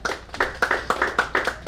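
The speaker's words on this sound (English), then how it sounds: "Give yourselves a round of applause right now." Poetry slam audience applauding in short, evenly spaced bursts of clapping, about four per second, moderately loud and fairly close, with no talk over it.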